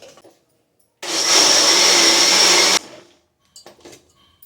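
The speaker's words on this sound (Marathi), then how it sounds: "आधी मी तांदूळ वाटून घेते" A mixer grinder whirs loudly for about two seconds as it grinds soaked rice, starting abruptly and cutting off, with quiet clinks before and after.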